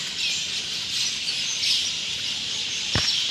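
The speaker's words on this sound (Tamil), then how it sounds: "எல்லா பறவைங்களும் இங்கே தான் உட்காந்துருக்கும்" Birds chirp around a building complex in Malaysia, a steady bright twitter of many birds close by with one sharp louder call near the end, no voices.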